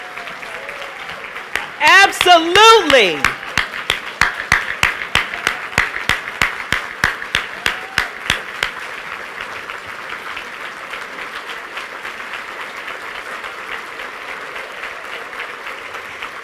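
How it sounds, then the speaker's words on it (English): Audience applause for retiring Senator Barbara Mikulski, a loud burst of crowd clapping that fades into scattered claps, with a voice briefly speaking over it near the start. "Barbara Mikulski, a round of applause for her years of service"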